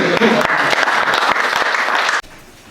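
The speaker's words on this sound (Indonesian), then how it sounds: "tepuk tangan." A classroom group claps together in a short, lively round of applause that cuts off abruptly near the end, leaving quiet room tone.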